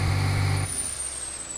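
Duramax diesel truck built toward 1000 hp, in rough shape, with a loud turbo: deep engine drone drops away abruptly, leaving a high, thin turbo whistle that lingers and slowly winds down.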